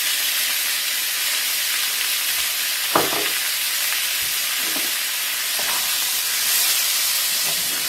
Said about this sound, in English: you're going to cook this 2 minutes until you don't see that pink anymore